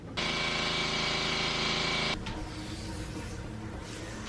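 A compressor drones loudly and steadily with a strong mechanical hum for about two seconds, then cuts off, leaving a quieter hiss and rumble, while filling a tire during hand tire mounting.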